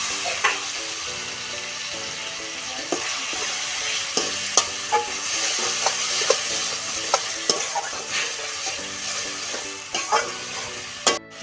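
Masala frying in oil with tomato and coriander leaves, a steady close sizzle with repeated scrapes and knocks of stirring in the pan, no talk.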